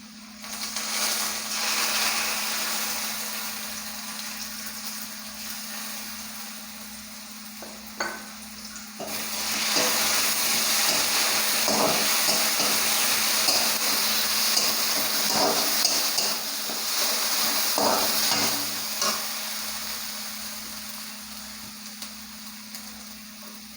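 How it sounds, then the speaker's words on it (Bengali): Poppy seeds (posto) frying in a pan for vegetarian aloo posto, giving a steady loud sizzle with stirring scrapes and clinks throughout, getting busier midway. "ভাজা ভাজা হয়ে যাক পোস্তটাও হালকা বেশি না"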